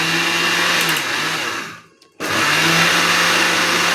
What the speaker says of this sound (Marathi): आता आपण मिक्सरला ग्राइंड करून घेणार आहोत